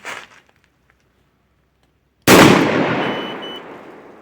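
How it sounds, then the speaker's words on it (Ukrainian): A single loud rifle shot during a gunpowder load test rings out after a brief stretch of near silence, its boom decaying slowly over the following seconds. "Третій постріл."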